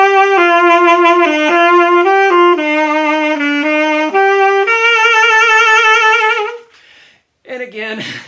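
A saxophone plays Auld Lang Syne slowly, sustained with a very wide, wobbling vibrato, then it stops and a short sound follows.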